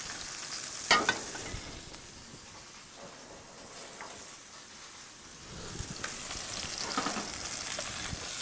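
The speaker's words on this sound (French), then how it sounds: "On va juste faire tomber quelques instants les pousses avec un petit peu de beurre et une gousse d'ail." Spinach shoots wilting in a pan with a little oil, butter and a clove of garlic, giving a soft steady sizzle and hiss with a sharp clatter near the start and a few quieter stirring scrapes.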